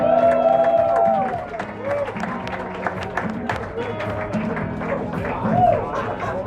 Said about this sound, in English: Big round of applause for Jack Bensinger, everyone